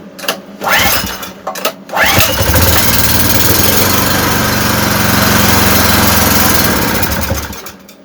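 A 2.8 kW petrol generator with a backfiring, hard-starting fault is cranked with a couple of short pulls, then catches and runs loud and rough close by for several seconds before dying away at the end; no one talks over it.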